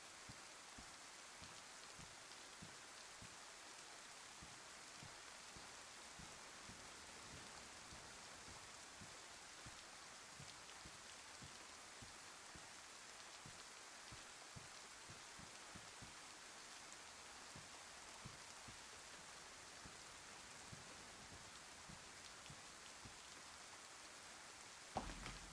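Rain falls steadily in the video game DayZ on the Chernarus map, a soft continuous hiss of drops with faint patter, quiet and unchanging throughout.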